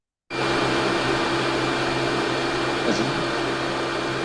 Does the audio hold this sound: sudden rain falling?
no